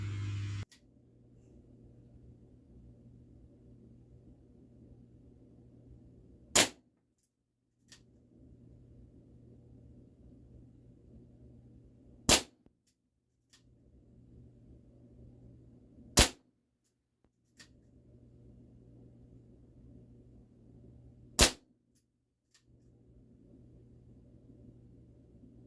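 ASG Dan Wesson 715 CO2 airsoft revolver firing four single sharp shots spaced several seconds apart, each a loud isolated snap over a faint low hum.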